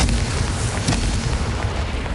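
Confringo blast spell in Hogwarts Legacy going off as a dense, rumbling explosion that fills the whole moment with heavy low booming and crackle.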